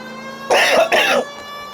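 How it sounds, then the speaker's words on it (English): Two quick, harsh coughs from a person with asthma, close to the microphone, back to back, over a faint steady background hum. "Sorry if I'm coughing a lot, guys."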